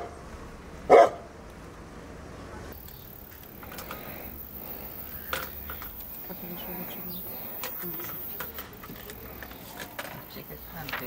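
A dog gives a single sharp bark at a village house during door-to-door election voting, loud and close, followed by quieter outdoor ambience with faint birds and scattered voices talking in the background.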